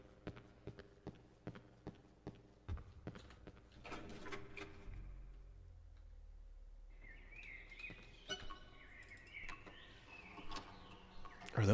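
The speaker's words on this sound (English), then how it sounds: "the birds of the morn that I hear?" Birds chirp in the Cry of Fear video game, scattered high calls entering midway over a low droning hum after a run of rhythmic mechanical clicks and thuds, fairly faint overall.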